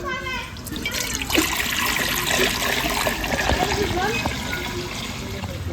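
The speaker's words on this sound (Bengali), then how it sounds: "এবার খুদের মধ্যে বসানোর জন্য জল দিয়ে দিচ্ছি" Water poured into a cooking pot to heat for broken rice, a loud, close, continuous rushing pour lasting throughout, with a voice speaking over it.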